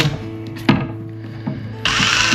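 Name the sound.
power drill unspooling fishing line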